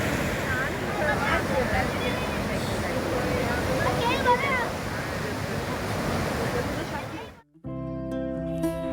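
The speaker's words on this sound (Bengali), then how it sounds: "রিসোর্ট থেকেই সমুদ্রের গর্জন শুনতে পাচ্ছিলাম।" Sea waves roar steadily on Tajpur beach, a loud continuous surf wash with wind buffeting the microphone, ending abruptly at about seven seconds when the sound cuts to a different tonal passage.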